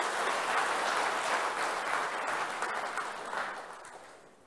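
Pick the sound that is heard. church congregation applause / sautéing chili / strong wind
church congregation applause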